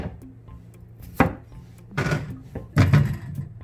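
Three sharp knife chops halve potatoes on a cutting board, each a crisp thud with a brief wooden knock, spaced about a second apart, close and clear.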